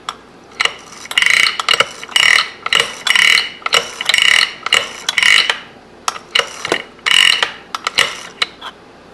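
A 1958 Harley-Davidson Sportster kickstart gear ratchets on the transmission shaft in a workshop, giving repeated bursts of bright metallic clicking in an uneven rhythm, close and fairly loud with no talking.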